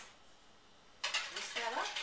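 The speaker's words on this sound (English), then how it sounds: "So I like to whisk things." Cinnamon and Splenda whisked in a baking bowl for bread pudding: after a second of quiet, a short close burst of rapid metallic clinking and scraping against the bowl runs to the end.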